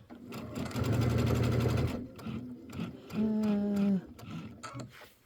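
A sewing machine stitches in the ditch of a quilt, with two short bursts of close mechanical whirring amid handling noises and a voice speaking.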